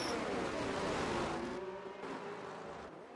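F1 cars race past at Suzuka, Japan, in a sim racing esports event, a brief loud engine whine that fades away over a few seconds beneath faint commentary.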